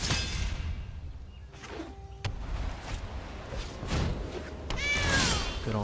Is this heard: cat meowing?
yes